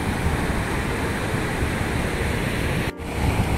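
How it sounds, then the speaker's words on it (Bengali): A loud, steady roar of water rushing out of a dam gate at Tara Dam, Chakaltore, close by, continuous and unbroken apart from a brief dip near the end. "গেট থেকে পুরো জল বেরিয়ে এই সাইডে একদম চলে যাচ্ছে মাঠের দিকে।"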